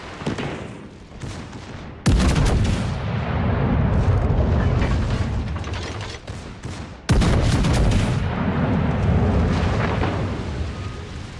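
German battleship main guns fire in a naval video game, two huge booming salvos followed by long rumbling roars, loud and close.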